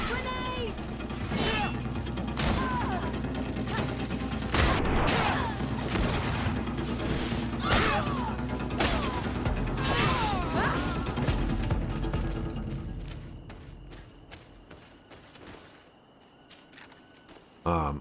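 A grenade blast in the video game GreedFall lands among dense battle noise, with sharp impacts, crashes and gunfire-like bursts throughout, while voices shout over the fight before it thins out.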